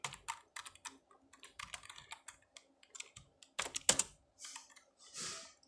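Rapid clicks and taps of a computer keyboard come close and clear as HTML and CSS code is typed, in uneven bursts with short pauses and a few heavier key strikes.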